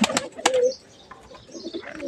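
Pigeons in a loft give brief close wing flaps and soft cooing, with a couple of quick bursts at the start and fainter fluttering after.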